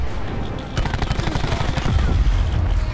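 Rapid automatic gunfire in a first-person shooter video game, a dense loud burst of shots that continues through the moment, with faint talking in the background.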